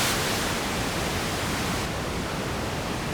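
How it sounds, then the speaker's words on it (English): Pink noise, a steady broadband hiss with more weight in the low end than white noise, loud and unbroken throughout, its top end dulling slightly partway through. "The next type of noise that we have is pink noise."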